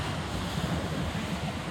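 Small sea waves wash onto a beach in Turkey at sunrise, a steady broadband surf wash with some wind noise on the microphone and no talking.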